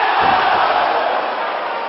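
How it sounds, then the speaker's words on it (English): A large wrestling crowd reacting in a loud, sustained wash of massed voices, a dense roar with no individual voice standing out. "The crowd gasps in a mixture of horror and sadness over what they just saw."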